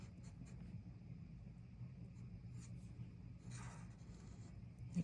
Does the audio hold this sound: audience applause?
no